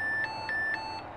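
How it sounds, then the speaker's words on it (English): A Whistler WS1040 handheld digital scanner radio sounds a short alarm tone, a thin high electronic beep pulsing about four times in quick regular succession, close and clear with no talking. "I can set an alarm, like a single chirp"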